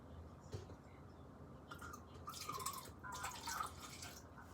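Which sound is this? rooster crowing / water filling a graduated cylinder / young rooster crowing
water filling a graduated cylinder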